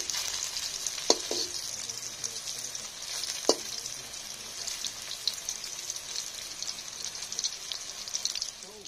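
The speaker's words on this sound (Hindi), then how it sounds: "पनीर फ्राई हो गया" Paneer frying in hot oil gives a continuous bright, hissing sizzle at moderate volume, with a couple of brief clinks early on and scattered crackles throughout.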